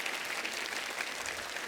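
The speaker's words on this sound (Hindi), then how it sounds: "एक बार जोरदार तालियां हो जाए रवीना जी, सुधा जी और गुनीत जी के लिए।" A studio audience at a comedy talk show breaks into loud, continuous applause, dense clapping that holds steady and close throughout the short stretch.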